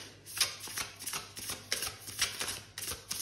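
Rigid, high-quality tarot cards being shuffled close up, a steady run of riffling, flapping strokes alone over a faint low background hum.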